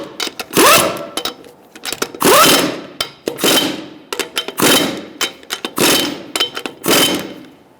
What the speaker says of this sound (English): Using a 21mm socket, we're going to tighten up our lug nuts in a crisscross manner.